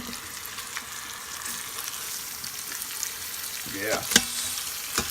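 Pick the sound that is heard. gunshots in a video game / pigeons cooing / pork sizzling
pork sizzling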